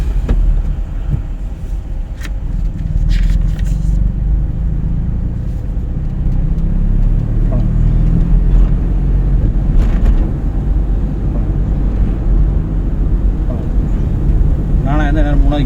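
A car in second gear during a driving lesson, its engine rumbling steadily and close inside the cabin as it accelerates, with a continuous low drone and some wind noise under occasional talk.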